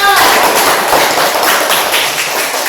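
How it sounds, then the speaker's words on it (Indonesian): A classroom full of students claps for a student group, a dense, steady wash of many hands applauding loudly and continuously throughout. "Tepuk tangan dulu untuk kelompok 2."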